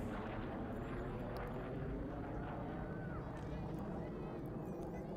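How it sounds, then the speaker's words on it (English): A jet passes overhead during a girls' hockey game, a faint broad rumble sitting low under arena noise and a commentator's voice, steady throughout. "There's a jet flying over top of us here"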